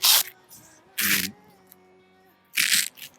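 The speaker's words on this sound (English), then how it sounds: "You come up on the window on the very back side and pull the Velcro away" Velcro on the rear window of a Jeep soft top tears apart in three sharp, rasping bursts, close and fairly quiet, separated by short pauses.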